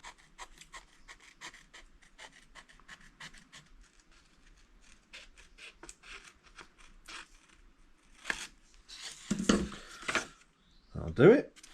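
A curved template for a motorcycle mudguard is cut out by hand in a shed workshop, with repeated short rasping cuts at a steady rhythm, then louder scraping and rustling handling toward the end, close by.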